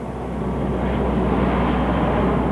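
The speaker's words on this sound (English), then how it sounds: "Planes still come and go at Moffet" A loud, steady aircraft engine roar as a plane moves at the Moffett Field airstrip, a former Navy air base, building slightly and then holding a continuous drone.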